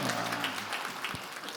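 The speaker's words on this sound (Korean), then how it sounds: "우리 연준이 잘 자라라고 박수 한번 하도록 하겠습니다" A church congregation claps together at a Sunday worship service, a steady dense patter of many hands filling the room, fairly loud and continuous.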